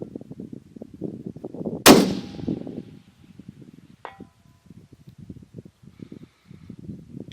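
A single sharp rifle shot cracks out, followed about two seconds later by a faint, distant ping as the bullet strikes an 18x24-inch AR500 steel target at 1,000 yards, with wind rustle and low background noise throughout.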